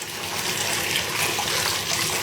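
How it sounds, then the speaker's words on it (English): Bubble bar fizzing and dissolving in bath water, a steady close hiss of bubbling and rushing water with no talking over it. "It is incredibly hard, and it's already creating bubbles."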